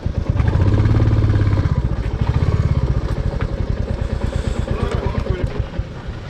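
A motorcycle idles and putters with a rapid, steady chugging thump as it is parked at a viewpoint near Changu Lake on a December ride, loud and close, then settles into a quicker, lighter idle.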